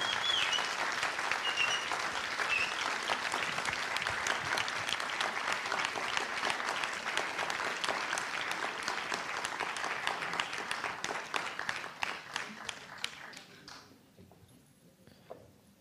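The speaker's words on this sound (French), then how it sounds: "Encore un tonnerre d'applaudissements, s'il vous plaît" A conference audience gives a long, dense round of applause, loud and steady for most of its length before thinning into a few scattered claps and fading toward the end.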